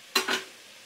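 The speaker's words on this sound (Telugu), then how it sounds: "పనస ముక్కలు వేసుకున్నాయి ఫ్రెండ్స్, నూనెలో ఆయిల్లో అలా ఫ్రై అవనిద్దాం" Jackfruit pieces dropped into hot oil in a pan give a sudden loud sizzle with a second burst, settling into a steady soft frying hiss, close and with no talking.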